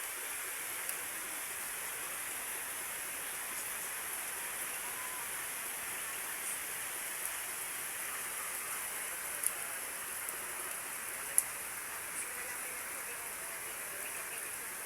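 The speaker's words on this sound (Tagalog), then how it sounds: "ayan na ang ulan." Steady rain falls throughout, a dense even hiss with a few faint drips and taps standing out now and then.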